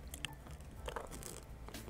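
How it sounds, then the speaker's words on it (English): Crunchy chewing of an Olive Garden breadstick, close to the mic, with a few soft bites and mouth sounds over a steady low background hum for about two seconds. "I ate the whole breadstick."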